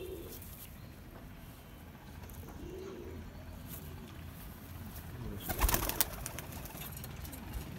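Pigeons coo softly in a loft or coop, low murmuring calls repeating through steady background noise, with a brief burst of flapping or handling near the end.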